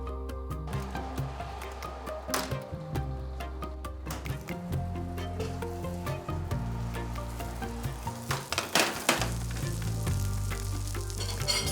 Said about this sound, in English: Now we will put the vegetable in the oven to saute it with some olive oil and black pepper.